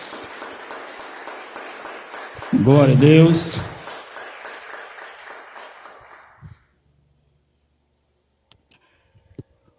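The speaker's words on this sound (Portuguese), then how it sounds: "Pode aplaudir Jesus com muita alegria," Church congregation applauding and cheering with joy during a service, a dense broadband clatter of clapping with a loud burst of shouted praise midway, then cutting off abruptly into near silence with a few faint knocks.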